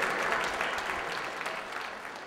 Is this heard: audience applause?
yes